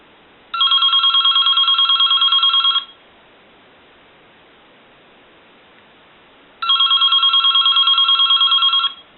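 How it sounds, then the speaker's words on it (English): A repaired Pepsi Cola novelty telephone rings loudly in two long electronic trilling bursts with a quiet pause between them, and nobody speaks. "And we'll go ahead and ring the unit."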